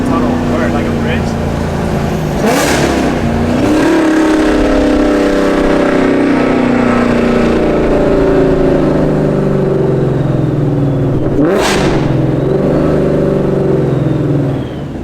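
An 850hp supercharged Ford Mustang engine and exhaust revs loud and close with supercharger whine, steady droning under two sharp surging rev spikes while driving through a tunnel or bridge.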